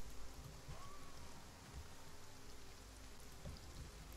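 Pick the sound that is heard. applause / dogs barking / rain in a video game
rain in a video game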